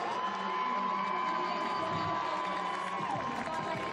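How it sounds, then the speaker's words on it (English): A stadium crowd at the CrossFit Games cheers steadily for athlete Annie Thorsdottir, a broad sustained roar of many distant voices with a faint whistle-like tone running through it. "Everybody's giving her a cheer"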